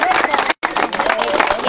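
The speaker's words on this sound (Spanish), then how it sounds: "un aplauso para toda esta gente." A crowd of townspeople at a street protest claps loudly and continuously, dense applause with chatter and shouting mixed in, broken by one split-second gap.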